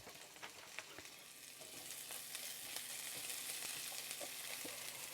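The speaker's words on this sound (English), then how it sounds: "and some minced garlic. I want to cook those without burning, just for a few minutes." Minced garlic and grated ginger frying in a pan, giving a steady close sizzle with scattered crackles and faint clicks of stirring, continuing throughout with no talk.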